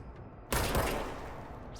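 Gunfire in the video game Control erupts as one sudden loud blast after a quiet lead-in, then rings out as a long decaying tail, with no talking over it.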